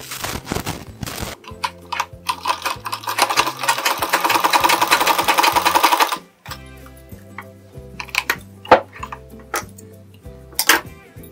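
A sewing machine stitches a blouse lining in bursts of rapid, even mechanical clatter, pausing briefly partway through before resuming in shorter runs, close and clear.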